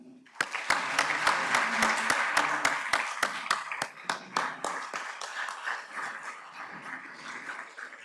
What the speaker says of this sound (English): Rotarians, please give a round of applause to your